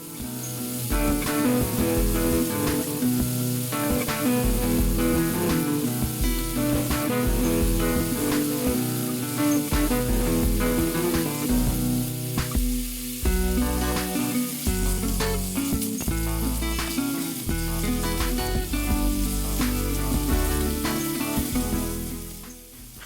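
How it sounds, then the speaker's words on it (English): Chorizo sizzles loudly and continuously in a mini paella pan as it browns, partly masked by strong, steady music that runs the whole time. "Then add the chorizo and cook for 3 to 5 minutes."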